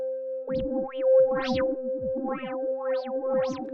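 A detuned synth patch built with a Make Noise MultiMod in VCV Rack, sweeping, wobbling pitches rising and falling over a steady droning tone, thick and effected, repeating in loose phrases.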